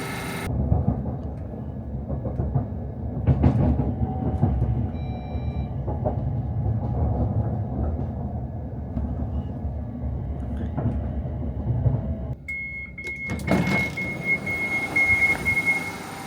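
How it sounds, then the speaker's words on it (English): ScotRail train pulling away from Mount Florida station on the service to Glasgow Central, a steady low rumble of wheels and motors close by, with a sharp squeal and a rising high whine near the end. "we are going to be leaving Mount Florida now on the 11:01 ScotRail service to Glasgow Central"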